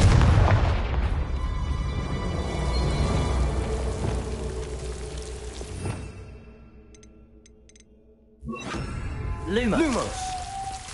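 A Confringo blasting spell goes off in Hogwarts Legacy on PS5, a loud booming burst under steady rumbling game ambience, with a second blast and swirling magical effects toward the end while a voice speaks.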